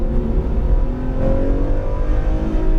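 A Ferrari F12 Berlinetta accelerating on a track, its engine note rising in a loud, close drone with a smooth climbing pitch and no voices over it.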